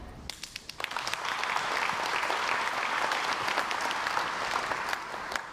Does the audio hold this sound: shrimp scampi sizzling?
no